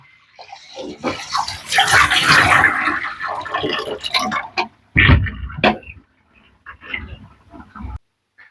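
Dirty water with waste residue rinsed out of a JBL CristalProfi e1502 external aquarium filter, a broad splashing, pouring wash that runs loud for several seconds, then a sharp gush around the middle and quieter trickles after.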